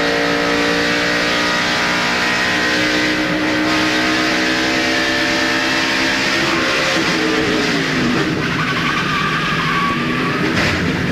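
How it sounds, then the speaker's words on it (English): A NASCAR race car at the 2002 UAW GM Quality 500 roars on track, its loud engine note falling as the driver lifts off the gas, with tire scrub and other cars passing. "listen when he comes on 4, when he sees those cars, how he backs off the gas"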